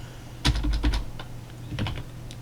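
Keys on a computer keyboard's numeric keypad are tapped in two quick bursts, several crisp clicks each, separated by a short pause, close up against a faint steady hum.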